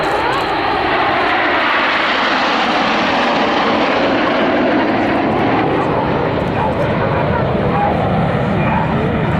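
Eurofighter Typhoon multi-role combat jets flying a formation display trailing red and white smoke at the Southport Air Show, a loud, steady jet roar that stays close and constant throughout.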